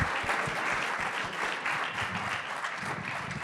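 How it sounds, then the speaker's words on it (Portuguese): A conference audience at the Z Invest summit, an investment event, gives a full round of applause for a speaker: dense, steady clapping from many hands that stays loud and even for the whole stretch, with no voices standing out. "Uma salva de palmas, por favor."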